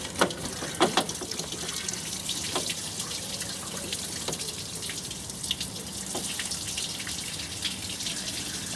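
Water from a hose runs steadily in a soft continuous wash during a Mk2 Golf coolant flush, with occasional small splashes and drips over the flow.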